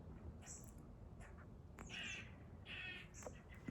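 Crows cawing outdoors in a tree line behind the speaker, a few short harsh calls at moderate distance over steady wind and background noise, with no talking.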